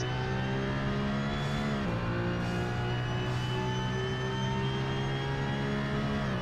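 Porsche 911 GT3 992 Cup race car in a racing video game, engine droning at high revs with a brief gear-shift dip, a steady loud tone that holds at one level.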